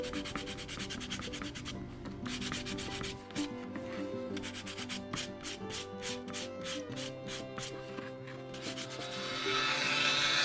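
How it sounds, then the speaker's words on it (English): A 200 grit fingernail file rubs across the carved surface of a gourd, quick repeated rasping strokes in a fast regular rhythm, close and fairly quiet, growing slightly louder and hissier toward the end. "I use a 200 grit fingernail file and a nail buffer sponge to go across the top of the design"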